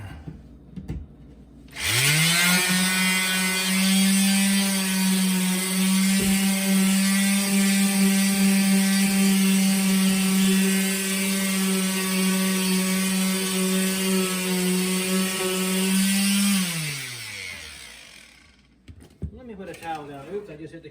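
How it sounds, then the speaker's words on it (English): A power sander works over a drywall patch with a steady, loud motor whine that runs for about fifteen seconds, then winds down and stops, with a few faint knocks near the end. "I'm gonna sand this real quick and throw some paint on it"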